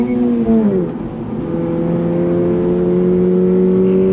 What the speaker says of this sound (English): On throttle, here we go. Rev it all the way out.